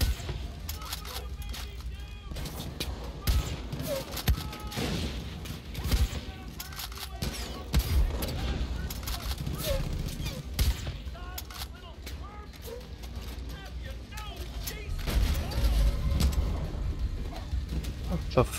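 Scattered gunfire in Far Cry 5 on hard difficulty, irregular sharp shots and short bursts popping over a busy, rumbling game soundscape, with a person speaking at times beneath the action.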